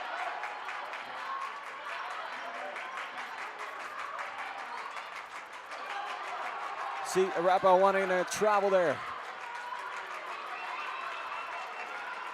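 Crowd noise fills Sitting Eagle Gymnasium during a girls varsity basketball game between Arapahoe and Cherokee Trail, a steady roar running under a play-by-play commentator's voice, briefly swelling louder midway.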